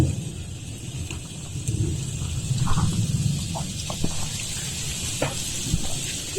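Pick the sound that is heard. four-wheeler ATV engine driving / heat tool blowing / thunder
thunder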